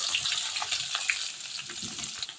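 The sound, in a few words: chopped onion and garlic frying in hot oil in a wok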